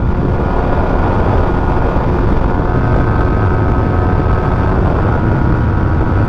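A Yamaha MT15 v2 (2023) motorcycle with a loud exhaust runs flat out in sixth gear at around 120 km/h and strains to climb higher. Its engine drone holds steady beneath heavy, continuous wind rush.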